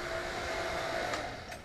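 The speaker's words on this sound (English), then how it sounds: "so what we can do is we're going to shut the vacuum off." A vacuum pump runs on an automotive air-conditioning system with a steady, faint mechanical hum and whir, a continuous drone with no speech.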